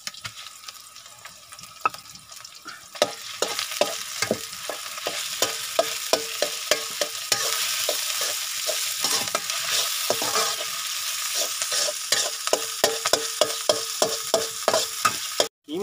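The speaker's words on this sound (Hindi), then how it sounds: "कीमा सादा फ्राई थी गया है।" Minced chicken keema sizzles loudly in a pan while a utensil stirs and scrapes through it, the steady frying hiss broken by frequent close clicks and scraping strokes, with no talking.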